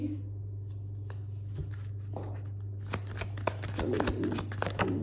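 Tarot cards being shuffled and drawn, giving soft papery riffles, slides and light taps close by that grow busier toward the end, over a steady low hum with no talking.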